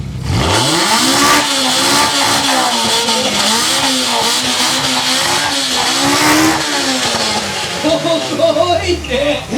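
At a large car meet, a naturally aspirated four-throttle engine revs hard through repeated swelling, falling bursts with a loud intake roar, then drops to idle; a crowd and announcers talk over it.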